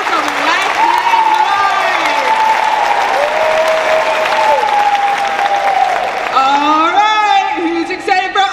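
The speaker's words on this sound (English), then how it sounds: "Can we please give them a round of applause for all of their hours of hard work on last night?" An audience at Oregon State University's All University Sing 2023 gives a sustained, dense round of applause with scattered whoops, while a voice speaks over the clapping throughout.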